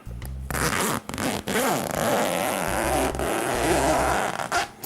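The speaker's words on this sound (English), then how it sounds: "Got the zippers here, standard, pretty heavy duty though." A heavy-duty zipper on a Mars Hydro 2'x4' grow tent is pulled along its track, a loud, rough, continuous rasp lasting several seconds with brief pauses, close to the listener.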